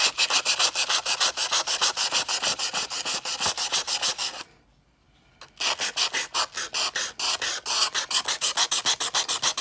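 Sandpaper rubs back and forth on a stainless steel straw to remove a misprint, a loud, steady rasping rhythm of rapid strokes that stops briefly midway and then resumes.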